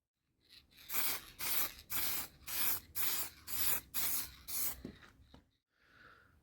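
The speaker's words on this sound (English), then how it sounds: "So the first coat of lacquer applied, just a very light dust coat" Light dust coat of Body Shop lacquer sprayed onto a custom motorcycle helmet. There are about seven short, close hissing bursts in a steady rhythm, followed by a faint softer hiss.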